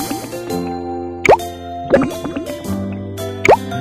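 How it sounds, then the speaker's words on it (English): Cartoon pouring effects from a kids' cooking video game, as a mixture goes into a mold in a baby panda's summer cafe: three quick rising plops with drips, set over steady background game music. "Now pour them into the mold."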